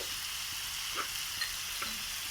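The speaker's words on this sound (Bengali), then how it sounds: "আদা কুচি আর টমেটো, এগুলো সব একসাথে দিয়ে ভালো করে মশলাটা আমি কষিয়ে নেব।" Ginger, onion, tomato and spices fry together in a pan for green pea koraishutir curry, a dense, continuous sizzle with a few soft stirring knocks, close and without talk.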